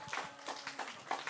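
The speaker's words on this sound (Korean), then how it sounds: "생일 축하의 박수를 힘차게 쳐주겠습니다" A small group of middle school students and teachers at a Sunday church service claps briskly in a short, quiet burst of applause for classmates with summer birthdays.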